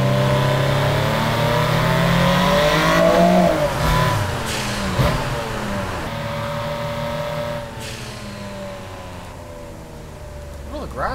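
Turbocharged full-carbon Honda Civic in a PC JDM racing game revs hard, its engine note climbing and falling through several loud sweeps with turbo whine, while a voice talks over it.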